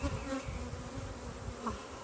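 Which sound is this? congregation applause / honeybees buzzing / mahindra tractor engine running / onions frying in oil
honeybees buzzing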